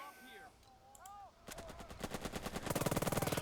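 Machine gun fire in the World War II tactics game Burden of Command, rapid rhythmic bursts that build into a loud, sustained rattle, following faint whistling game effects.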